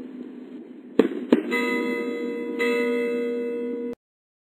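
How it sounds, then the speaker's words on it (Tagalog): Church bells peal during a religious procession, clanging and ringing out with sustained, shimmering tones, punctuated by two sharp firecracker bangs early on, then ending abruptly. "sa saliw ng nakatutulig na paputok at umaalingaw-ngaw na dupikal ng mga kampana"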